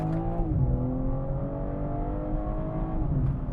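A BMW M car, an M2 or M3 Competition Touring, accelerates hard on a twisty B road, its engine note rising steadily and loud through the run with a brief shift near the start.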